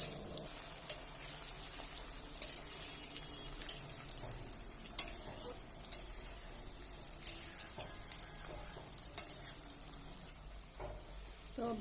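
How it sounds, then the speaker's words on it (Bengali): Potato pieces frying in oil while a biryani is being prepared, a steady soft sizzle with scattered crackles and light pops throughout, heard close and alone with no talking. "এবার আমি আলুটা ভেজে নেব।"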